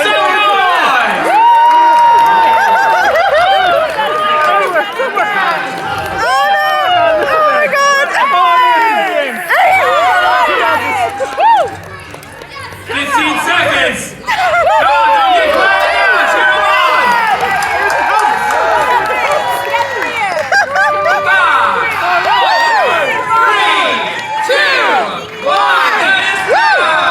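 A live tavern audience cheers and shouts through a timed beer pong challenge, loud sustained crowd noise with whoops and yells, while a host calls out over the roar.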